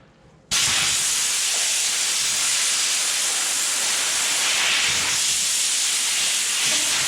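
A sudden, loud, sustained hiss of compressed air blasting through a PTO part from an Oliver 55 Series tractor under repair, starting abruptly and continuing steadily with slight surges, with no talk over it.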